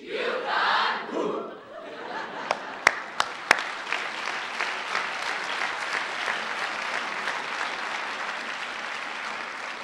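A large crowd at a UConn School of Nursing pinning ceremony cheers loudly, then breaks into sustained applause with a few sharp, prominent claps standing out early before settling into a dense, even clatter.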